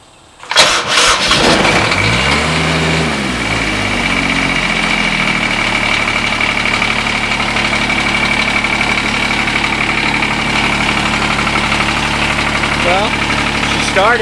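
A Kubota D722 diesel engine on a TG1860 mower cold starts after a brief crank and catches with a loud rising roar, then settles into a steady, slightly clattering idle that runs on close and loud.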